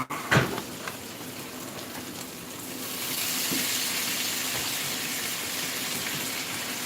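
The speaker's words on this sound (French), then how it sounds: "on va mouiller un peu avec du vin blanc" White wine is poured into a pan of New Zealand oysters and prawns being prepared for gratinating, a steady close gushing pour that swells after a soft clatter and carries on with a light sizzle underneath.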